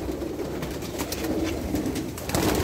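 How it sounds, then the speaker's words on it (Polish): Fancy pigeons, including Dutch breeds and an opal male, coo softly in a loft, low repeated murmuring calls that continue steadily with light background rustle. "piękne gołębie"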